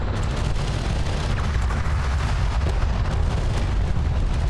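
Dense, continuous barrage of explosions and weapons fire from a desert battle in the strategy game Homeworld: Deserts of Kharak, loud and unbroken with deep booms throughout and no talking.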